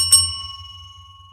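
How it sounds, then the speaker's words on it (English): A single bell is struck once and rings out with a bright metallic ding. Clear harmonic tones sustain and slowly fade over a low background hum, with no talking. "Let's give him the bell."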